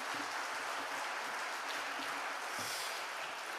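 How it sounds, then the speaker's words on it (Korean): A crowd at a robot newspaper's 10th-anniversary celebration applauds in a dense, steady wash of clapping that holds at an even level throughout, with no voices over it. "격려의 박수를 한번 힘차게 쏴주시기 바랍니다"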